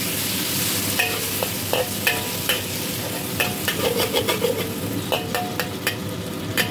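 Mung beans and tomato sauté in a pan, a steady loud sizzle broken by the repeated scrape and clack of a utensil stirring, close by.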